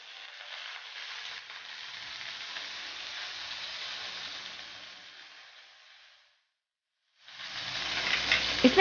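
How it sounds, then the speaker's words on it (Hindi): Butter sizzles in a pan with a little oil, a steady close hiss that fades and stops briefly before a louder sizzle returns, with no talking. "और अब हम डाल देंगे ये बटर।"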